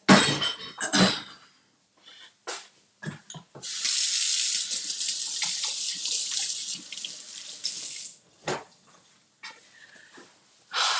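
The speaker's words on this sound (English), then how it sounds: "let me wash my hands" Hands being washed under a running kitchen tap, with a few clinks and knocks before a steady hiss of water that runs for several seconds, stops, and is followed by more scattered knocks.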